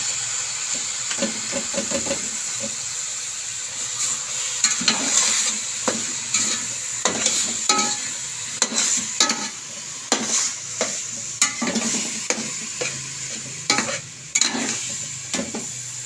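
Boiled spinach goes into a hot pan of palak gosht and is stirred. Repeated scraping stir strokes sound over a steady sizzle and hiss.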